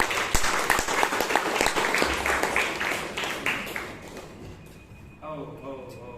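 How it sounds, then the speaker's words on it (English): Audience at a Bangalore Toastmasters meeting gives dense applause that starts at once and fades over a few seconds, indoors and moderately close, before a single voice begins speaking. "what sir deserves a round of applause."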